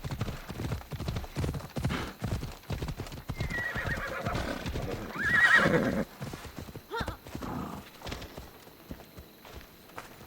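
Horse hooves clip-clop in a steady rhythm in Assassin's Creed Odyssey, and a loud neigh rises mid-way before the hoofbeats fade out toward the end.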